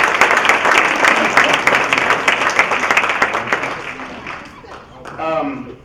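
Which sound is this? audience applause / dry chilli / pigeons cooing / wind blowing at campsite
audience applause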